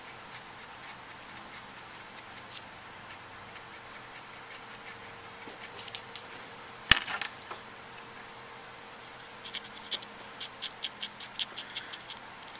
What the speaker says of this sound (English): And the X-Acto, by changing the angle, I find I can get a greater variety of sort of scratch shapes.